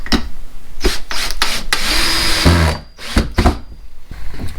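A power drill drives screws into a wall, giving several short whirring bursts separated by brief pauses, loud and close.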